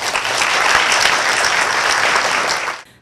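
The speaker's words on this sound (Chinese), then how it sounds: "掌声来感谢一下" Sustained, dense applause from an audience honoring teachers at a Changhua County awards ceremony, steady and loud for nearly three seconds before tapering off abruptly.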